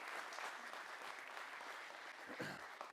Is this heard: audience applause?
yes